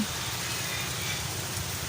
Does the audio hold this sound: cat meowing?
no